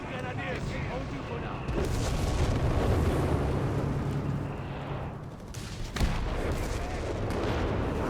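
Artillery fire and gunfire rumble and crack through a Company of Heroes 3 battle, with a sharp boom near the six-second mark, all under steady commentary from a man.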